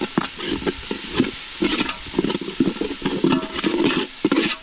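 Onion paste and bay leaf stirred in a frying pan for Chintapalli fish curry, giving a steady sizzle with repeated scraping strokes of a spoon throughout.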